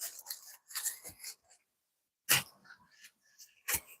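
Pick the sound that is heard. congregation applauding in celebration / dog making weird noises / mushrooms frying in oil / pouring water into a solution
dog making weird noises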